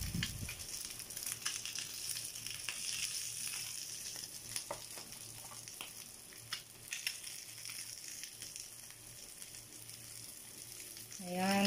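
Milkfish for sisig frying in a pan, a steady close sizzle and crackle of hot oil with scattered pops and spatters, continuing alone without talk.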